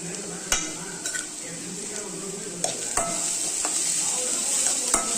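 Green chillies and curry leaves sauté in a hot pan, a steady bright sizzle throughout with sharp spoon clicks against the metal punctuating it, close and alone with no talk.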